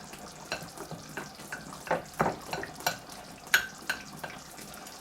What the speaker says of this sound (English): I'm going to just dot it all over with holes.